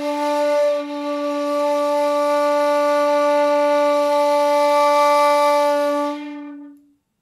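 A shakuhachi bamboo flute sounds the note Ro with all finger holes closed: one clear, breathy, sustained tone held for about six seconds before fading out.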